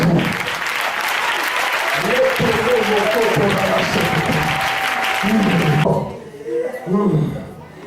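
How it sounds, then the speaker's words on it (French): Church congregation at a French-language worship service applauding and cheering in a dense, loud sustained wave, with a preacher's voice rising over it before the clapping breaks off near the end. "est-ce qu'on peut acclamer mon Jésus?"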